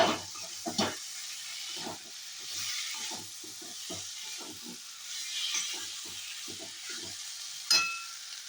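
Spice paste sizzling and frying in a pan on a home stove in a Bengali kitchen, a steady close hiss broken by soft stirring scrapes and small spatters throughout.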